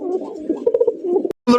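A snow-white pigeon from a breeding pair coos in a few soft, throaty, rolling pulses up close. A brief gap follows, then a louder, brighter burst at the end.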